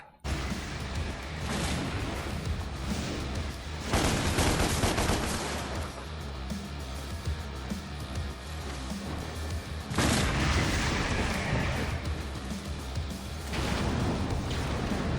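Gunfire in Devil May Cry Definitive Edition as fence posts are shot, with rapid continuous firing and louder bursts and impacts recurring every few seconds, dense and sustained throughout.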